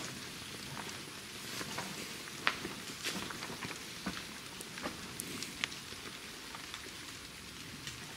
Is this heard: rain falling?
yes